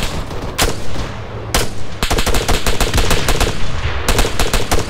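Sustained bursts of machine gun fire in the military shooter Arma 3, loud and close, in rapid overlapping volleys with brief gaps between strings of shots and no talking.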